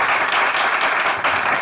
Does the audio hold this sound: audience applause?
yes